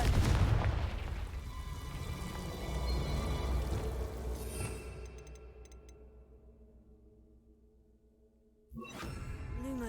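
A Confringo blasting spell explodes in Hogwarts Legacy with a heavy booming burst that rumbles and slowly fades over several seconds, followed by a fresh whooshing magical effect near the end.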